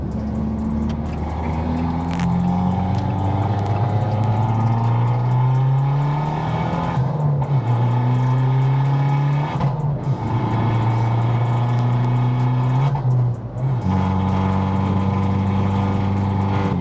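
An Abarth car with a stage 2 tune revs hard through a loud exhaust, rising and dropping in repeated sweeps with brief lifts off the throttle, close and continuous.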